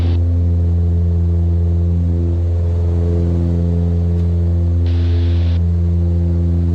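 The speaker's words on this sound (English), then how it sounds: "We'll get the gear up." A light aircraft climbing at full power, with a loud, steady engine drone and a brief higher-pitched whirr as the landing gear retracts.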